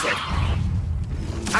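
Levioso levitation spell in Hogwarts Legacy, a loud airy whoosh with a whip-like swish at the start, followed by a fainter second swish near the end.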